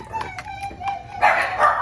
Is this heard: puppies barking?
yes